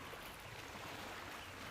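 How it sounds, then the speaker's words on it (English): Ocean waves as a soft, continuous wash of surf, faint and distant, with a steady rushing texture and no voices. "Maybe your attention follows the sounds of the ocean"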